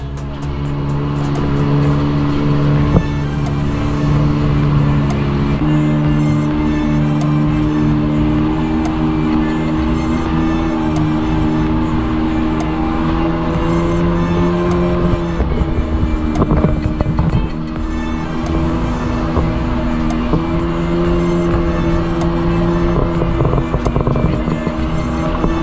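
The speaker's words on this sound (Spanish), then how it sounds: "oportunidad de utilizar una jet ski que nos prestó nuestro amigo Pierre" A jet ski engine drones loud and close throughout, with a steady motor note that dips and rises briefly as the throttle shifts. Water and wind noise wash across the top.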